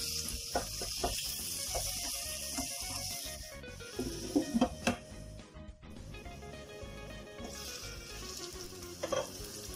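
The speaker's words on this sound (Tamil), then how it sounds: "நல்லா ஃப்ரை ஆகட்டும்." Onion and tomato fry in a pan with garlic for a cabbage egg curry, a continuous close sizzle broken by several clattering stirs and scrapes of a utensil, with no voice over it.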